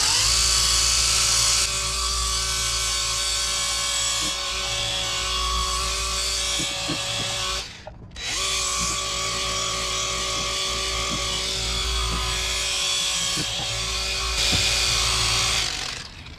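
A power polisher running on car paint whirs continuously at high speed, with a brief stop and restart midway, steady mechanical hum and no talking.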